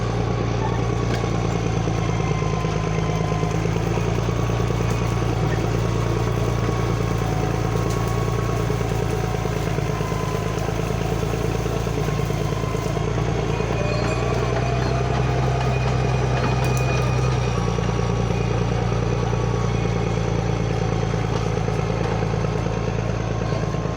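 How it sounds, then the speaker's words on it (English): A tractor engine runs steadily throughout while clearing land outdoors, a continuous loud mid-pitched rumble with clattering mechanical texture and slight shifts in load, no talking over it. "I'm giving you guys some minutes of the tractor working"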